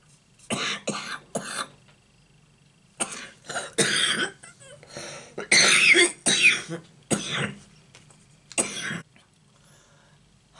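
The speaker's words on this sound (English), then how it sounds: "Had a horrible coughing fit then" A person coughs hard in several harsh clusters, with short pauses between bursts, close and loud.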